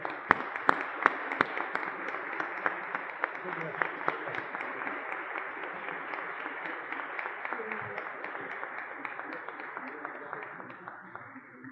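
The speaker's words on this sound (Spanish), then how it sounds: "Recibámoslo con un fuerte aplauso de bienvenida" Audience applause welcoming a guest speaker at an academic lecture on procedural law, a steady dense wash of clapping with sharp individual claps standing out, sustained and gradually thinning near the end.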